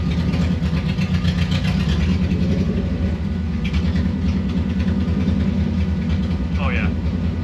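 A 1974 VW Bus fitted with a Subaru engine rumbles along slowly in first gear, its low, steady engine drone holding throughout with a voice speaking over it.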